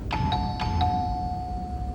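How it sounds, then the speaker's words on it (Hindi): Quick repeated rings of an electronic doorbell, three bright chimes close together, the last tone lingering and ringing out alone. "सुनो तो कितनी घंटियां बज रही हैं, सोमनाथ दरवाजा नहीं खोल रहा"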